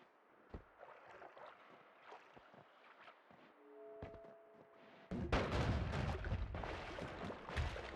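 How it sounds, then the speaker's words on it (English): Explosions in the game Noita, scattered muffled blasts and thuds building into a loud, sustained roaring burst of detonations in the second half. "Creating a lot of explosions, as it should be."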